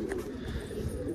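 Pigeons on a rooftop coo softly amid a busy low-pitched background murmur, their calls brief and partly buried in the surrounding noise.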